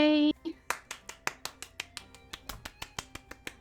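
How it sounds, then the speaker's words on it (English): A steady run of sharp, fairly quick hand claps, close and moderately loud, following a brief sung tone at the start. "Trying to get my hands to clap on camera"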